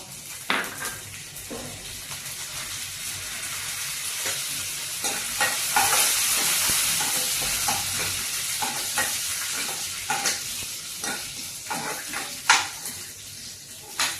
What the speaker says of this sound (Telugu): ఇప్పుడు తాలింపు పెడుతున్నాను. దీంట్లో రండి ఎండుమిరపకాయ, తాలింపు దినుసులు, కరివేపాకు